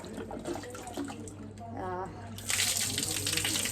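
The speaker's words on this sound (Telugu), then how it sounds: "ఇలా నీట్గా మనము ఉసిరికాయలు అనేవి క్లీన్ చేసేసుకోవాలి వాటర్తో" Tap water runs while someone talks, then the flow grows louder and splashier near the end as gooseberries are rinsed under it.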